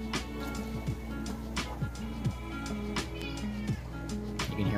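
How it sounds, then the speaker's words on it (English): A pet cat whines with several short meows in the background of a fish room, faint and fairly regular over a low steady hum. "You can hear my cat whining in the background."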